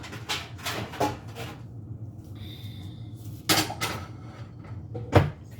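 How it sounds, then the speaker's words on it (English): A cast iron skillet lifted out of a kitchen cupboard: several sharp knocks and clanks of metal and cupboard doors, spaced apart with quiet gaps between, fairly close. "I'm going to grab my skillet, which I normally have out."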